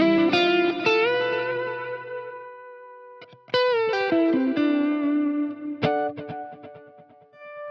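Electric guitar notes and chords run through a Keeley HALO Core delay pedal set to a dotted-eighth repeat, with each plucked phrase trailing off in shimmering, distorted echoes that fade between loud attacks, no voices present.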